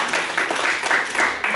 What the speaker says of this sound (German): Wieder um Applaus.